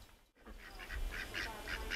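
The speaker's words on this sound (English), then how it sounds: "there's the baby duckling." A young duck peeps in a quick series of high, thin calls that come in a steady rhythm close by over faint background noise.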